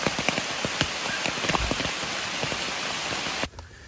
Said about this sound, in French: mais il continue de pleuvoir en non-stop.